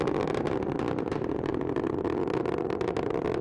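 Delta IV rocket with strap-on boosters at full thrust during launch, a dense continuous roar that stays loud and even throughout, heard from a distance.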